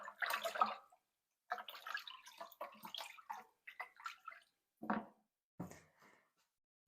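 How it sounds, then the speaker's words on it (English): Liquid elderflower wine mixture being stirred in a container, intermittent sloshing and swirling bursts of water close up, separated by short silences. "give that a stir in"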